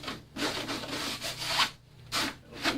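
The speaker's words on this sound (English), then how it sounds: "just wipe it off good and sand it" Wood being hand-sanded after an epoxy cleanup, with close, rhythmic back-and-forth abrasive rubbing strokes, alone and fairly loud.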